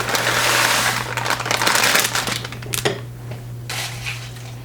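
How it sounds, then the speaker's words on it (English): Frozen peas and carrots are stirred into a beef vegetable stew in a slow cooker, a close spoon scraping and squishing through the thick mixture in bursts over a steady low hum, then quieting. "So we'll stir them in."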